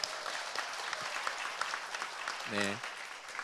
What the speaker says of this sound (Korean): 박수 먼저 치시죠